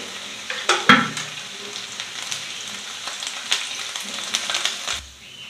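Prawns fry in a spoonful of freshly added oil, a steady sizzle beneath a few sharp spoon-and-pan clinks near the start and light stirring, ending abruptly.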